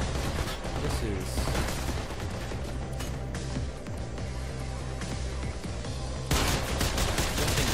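Rapid gunfire from a newly picked-up gun in the video game Mirror's Edge, sustained bursts under game music and mechanical clatter, with a louder surge near the end.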